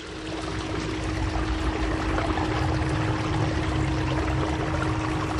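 Water rushes through a gold prospecting picker in Arizona, with rocks tumbling inside it; a loud, steady, close pouring flow that does not let up.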